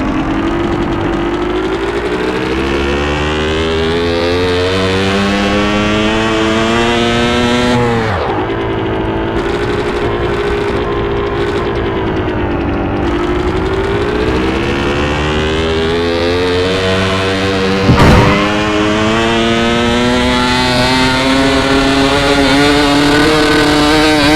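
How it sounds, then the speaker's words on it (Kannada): A Bajaj Chetak scooter engine in the video game Gangster Vegas drones continuously with a buzzy, rhythmic tone that rises and falls in pitch as it revs, loud and close, without talk. "ಇಂಜಿನ್ ಸೌಂಡ್ ನೋಡಿ ಗುರು ರಿದಮ್ ಹೆಂಗ್ ಬರ್ತೈತೆ ಕಟ್ಟ ಕಟ್ಟ ಕಟ್ಟ ಕಟ್ಟ ಕಟ್ಟ ಅಂತ"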